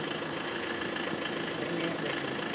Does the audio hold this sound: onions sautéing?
no